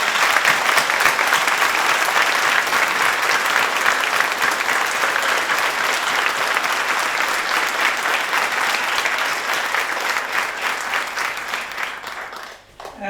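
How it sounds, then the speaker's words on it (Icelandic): An audience at a school's 40th anniversary celebration applauds its teachers with sustained, loud, even clapping that runs steadily for over twelve seconds before tapering off at the end. "En ég vil að við klöppum fyrir kennurum."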